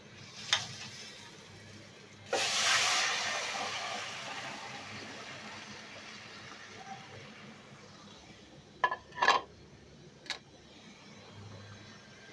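Boiled, mashed red lentils with sliced green chilies hit a hot pan for egg dal, setting off a loud sizzling hiss that slowly fades, followed later by a few sharp clinks and spoon scrapes.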